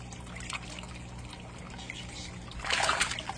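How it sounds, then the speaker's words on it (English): Bluegill fish feeding in a backyard pond make light trickling and dripping water sounds, then a sudden louder splash near the end as one surfaces close by. "Wow, he just splashed the heck out of me."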